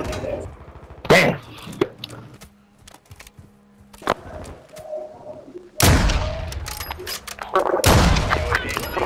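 Bursts of gunfire from Call of Duty: Modern Warfare II multiplayer, sharp broadband cracks around the one-, four-, six- and eight-second marks, the last ones loud and sustained, with game chatter and voices faint in between.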